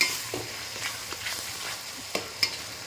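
Masala is stirred again and again in a pan to keep it from sticking, with soft scraping strokes over a light sizzle and a few sharp clinks of the spoon.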